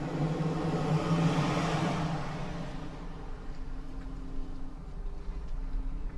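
A GMC Hummer EV Omega pickup swings through a slow 360-degree turn in a small parking lot, giving a close, steady low rumble of tires and drivetrain that swells at first, then eases to a softer hum.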